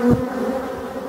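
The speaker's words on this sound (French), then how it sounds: "Petite visite de courtoisie aux abeilles de la forêt. On peut voir qu'il y a énormément de bourdons." Black bees and bumblebees in a Brittany forest, a close buzz swelling as an insect passes near, then a steady softer hum.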